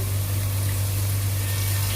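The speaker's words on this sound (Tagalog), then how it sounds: "Lagyan natin ng tubig." Water is poured into a cooking pan while sautéing string beans with pork chop. A short, steady rush of liquid sits over a constant low hum.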